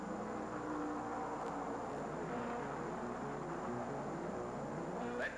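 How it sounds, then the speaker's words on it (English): A turbine-powered race car at a 1968 oval race in Phoenix lets out a continuous, loud, jet-like scream as it blasts down the front straight, mixed with the steady roar of other racing engines. "That Turbin sounds like a jet screamer as Pollard lashes down the front chute."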